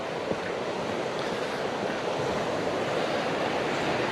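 Waves wash steadily along the Derwent River estuary, a continuous broadband surf roar mixed with wind buffeting the microphone, loud and unbroken with no voices.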